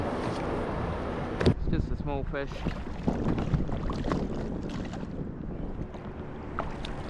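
A passing boat's engine drones steadily throughout during a fishing tournament, with someone speaking briefly over it and wind buffeting nearby.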